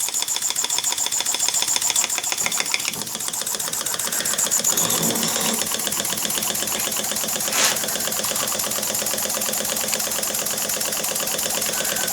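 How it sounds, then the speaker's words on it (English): A small horizontal steam engine chuffs in a fast, even mechanical rhythm, puffs of exhaust air ticking steadily throughout, close and continuous with no voices. "By the way, that is where the air is escaping."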